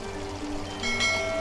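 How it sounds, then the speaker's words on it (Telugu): A cup of water pours into gongura chicken cooking in a pot, a steady close trickle and splash that swells slightly toward the end, with no voices. "కొంచెం వాటర్ వేసి ఒక కప్పు నీళ్ళు పోసుకుని"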